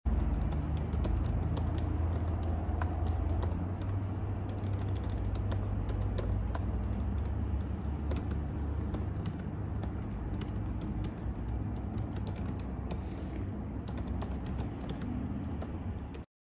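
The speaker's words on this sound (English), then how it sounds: "The keys themselves are very smooth to type on, with good enough travel and quite a lot of satisfyingness." Keys clattering steadily on the keyboard of a 14-inch MacBook Pro laptop, a fast run of light, close taps over a constant low background hum.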